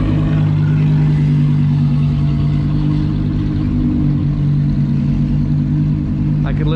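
An Audi R8's V10 engine rumbles steadily at low revs in slow traffic, a deep continuous drone close by with voices talking over it.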